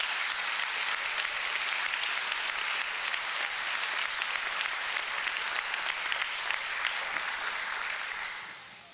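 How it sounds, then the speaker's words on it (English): A graduation ceremony audience claps in sustained, dense applause, a broad even patter of many hands that carries on throughout before tapering off near the end. "let's give them a round of applause, please."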